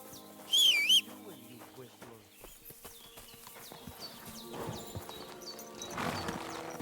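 Horse hooves clip-clop in the medieval role-playing game Kingdom Come: Deliverance II, a steady series of light knocks under game music and ambient birdsong, with a brief whistle-like call near the start.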